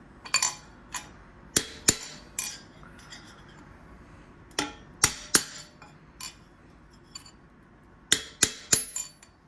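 Metal bearing race being tapped out of the pinion housing of a Dana 44 axle, a run of sharp metallic hammer clinks in short bursts with pauses between, close and fairly quiet.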